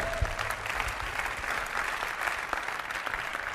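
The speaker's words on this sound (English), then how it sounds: "Give them a big round of applause." Steady audience applause fills an indoor meeting room, many hands clapping continuously at a moderate, even level for several seconds.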